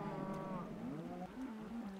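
Minecraft cows mooing in a cow farm, several overlapping low drawn-out moos following one another, fairly quiet and with no talking.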